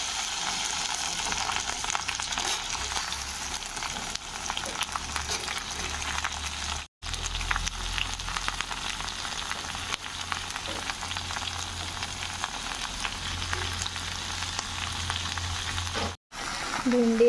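Okra and potatoes frying in a pan with onions browned in oil, giving a steady, close sizzling hiss that runs unbroken apart from two brief gaps.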